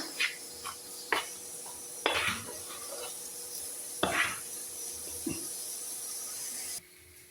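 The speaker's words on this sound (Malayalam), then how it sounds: "ഉപ്പ് ചേർത്തിട്ട് നന്നായിട്ട് ഒന്ന് ഇളക്കി കൊടുക്കുന്നുണ്ട്." Rice flour dough for idiyappam is stirred with salt, giving a few sharp scrapes and knocks at irregular intervals over a steady faint background, with no talking.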